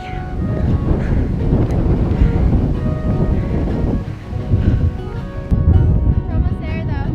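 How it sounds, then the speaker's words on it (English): Strong wind buffets the microphone on a hiking trail in Girraween National Park, a loud, continuous rushing roar with gusty surges throughout, while hikers talk over it. "It's so windy."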